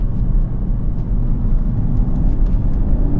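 Audi TTS MK3 under hard acceleration produces a loud, continuous engine and road roar from inside the cabin, steady and full throughout with no talking.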